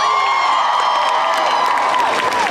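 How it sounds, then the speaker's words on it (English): A convention panel audience at Wizard World Philadelphia 2016 bursts into loud, sustained applause mixed with cheering and whoops, a dense crowd roar that holds steady throughout. "Round of applause for Vision."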